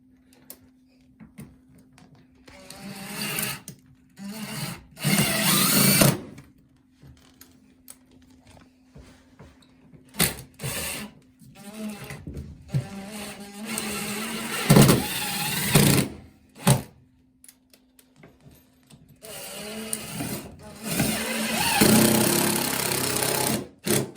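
A power drill runs in repeated bursts while bolting a new Kohler toilet onto a flange repaired with a Danco HydroSeat. The whirring spurts stop and start with short pauses between them, close and fairly loud.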